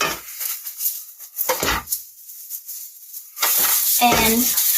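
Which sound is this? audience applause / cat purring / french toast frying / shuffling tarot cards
french toast frying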